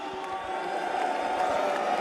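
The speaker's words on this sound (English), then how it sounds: "Cheer if you want him." An audience at The International 2025 esports event cheers and whoops together, a loud, dense crowd roar that swells slightly over two seconds.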